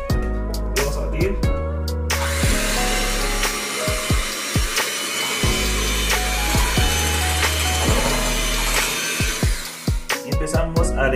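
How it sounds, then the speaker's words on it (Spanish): An electric hand mixer beats biscotela sponge-cake batter with vanilla in a home kitchen, a steady loud whir running throughout, briefly stopping and restarting with a few clicks near the start and end. "Vamos a batir."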